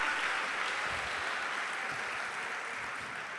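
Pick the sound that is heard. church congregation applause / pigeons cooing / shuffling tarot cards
church congregation applause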